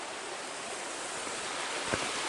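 A river running some forty feet below the Acequia Gorda path near Monachil: a steady, broad rushing wash of water heard from a distance, continuous and even, with one brief faint knock near the end.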